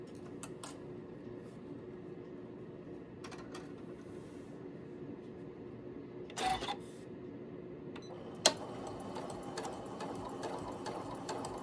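A sewing machine runs a steady, rapid mechanical whir while stitching an anchoring seam along a pattern line in foundation-pieced fabric, with a few brief clicks and pauses and a sharper click before it resumes at a slightly higher level.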